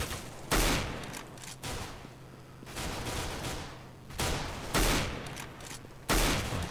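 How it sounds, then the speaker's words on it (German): Counter-Strike gunfire while jump-shooting in a competitive match: several loud, sharp bursts of shots, each a few seconds apart, with softer game noise between them. "Macht er schon ganz gut hier im Springen schießen."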